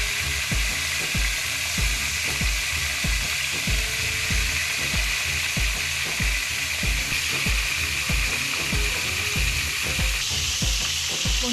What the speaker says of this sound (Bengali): মাছের মাথাগুলো আমরা ভেজে নেব।